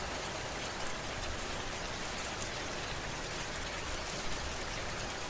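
Steady heavy rain pouring down, a dense unbroken hiss of drops hitting surfaces, loud and close and continuing throughout.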